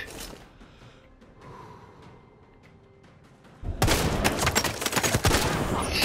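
Gunfire in the sniper shooter game Sniper Ghost Warrior 3. A quieter stretch of game ambience is followed by a loud, sustained burst of shots and blasts that fills the last two seconds.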